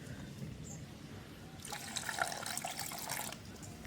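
Onions, garlic and green chillies being washed in water in a village kitchen, with quiet splashing and trickling that grows busier and louder partway through, along with a few soft knocks.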